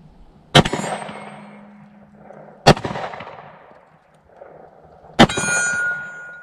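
A Smith & Wesson M&P 10mm pistol fires with a brass catcher mounted, giving three loud, sharp reports spaced about two seconds apart, each followed by a ringing echo tail.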